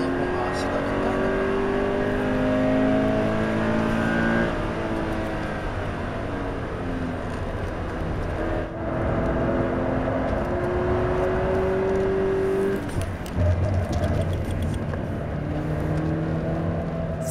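Toyota GR86 sports car lapping a race circuit, its engine droning loudly and continuously with rising and falling revs through gear changes, heard from inside the car, with a voice speaking over it.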